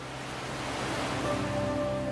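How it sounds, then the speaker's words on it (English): Ban Gioc waterfall in Cao Bang Province, Vietnam, pours steadily in a broad, continuous roar of falling water that holds even and close, with a faint low hum beneath and no voices. "It is Ban Giok Waterfall, one of the most beautiful and famous natural waterfalls in Vietnam"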